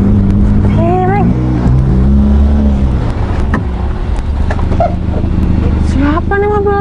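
A car pulls up close and cuts in front, its engine rumbling loudly and revving under a mix of excited talking voices, with a brief quieter lull midway.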